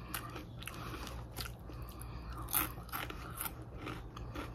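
Crunching on spicy ridged potato chips resembling Ruffles, steady crisp bites and chewing heard close up against a faint background hum, with no talking.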